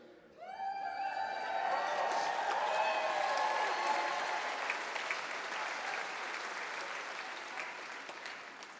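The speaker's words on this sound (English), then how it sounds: "we like you to clap, but we don't want you to do it too politely" Outdoor graduation ceremony audience breaks into sustained applause that swells quickly and holds steady for several seconds, with tonal whistles or cheers rising over the clapping, fairly distant and open-air.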